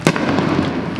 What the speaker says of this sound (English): Fireworks going all around our area.